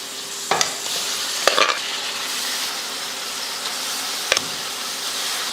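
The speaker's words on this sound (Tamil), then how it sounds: "இந்த எண்ணெயில் கொஞ்சம் போட்டு நல்லா வதக்கி விட்டுறணும்" Boiled goat intestines sautéing in hot oil, with a steady close sizzle and a few sharp stirring clatters against the pan.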